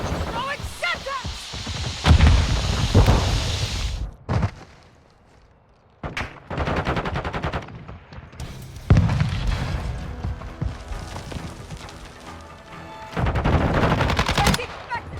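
Gunfire in a Modern Warfare 2 Domination match on the Shoot House map: loud bursts of automatic weapon fire come in several waves, broken by a near-silent pause. Shouted in-game voice callouts sound between the volleys.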